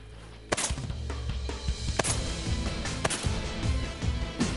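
Shotgun blasts during a snow goose hunt at Kaska Goose Lodge: several sharp, loud cracks spaced about a second apart over a busy background of rustling and bird clamor.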